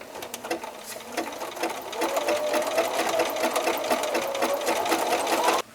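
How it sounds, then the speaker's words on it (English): A sewing machine runs a wide zigzag stitch along the edge of a machine-embroidered pillow with piping, its rapid needle clatter continuous and close, rising slightly in speed before stopping abruptly. "add a pretty wide stitch, and I'll zigzag on one side and off the other side"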